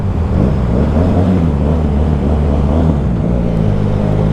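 A big bike motorcycle idles in EDSA traffic with a deep, throaty engine note, a loud and steady low rumble close by with no one talking.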